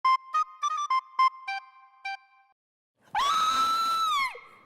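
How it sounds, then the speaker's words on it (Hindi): A person screams loudly in one sustained, rising and falling shriek lasting about a second and a half, heard after a short melodic ringtone-like sequence of beeps and a moment of silence. "अबे क्या इतना चीख भी"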